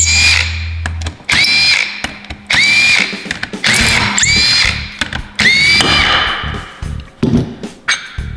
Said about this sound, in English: Now we're gonna go ahead and remove the bolts out of the cap.